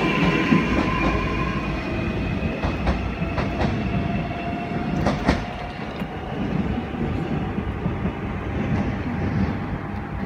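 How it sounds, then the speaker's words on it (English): Melbourne Glen Waverley line train pulling out of platform 1 toward Flinders Street, a steady rumbling roar with wheel clatter and a faint high squeal, continuous and fairly close, no talk. "Flinders Street service now leaving platform 1."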